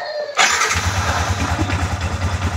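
A motorcycle engine started before an oil change: a sharp start-up burst, then a steady, close idle with a throbbing low rumble, no talk.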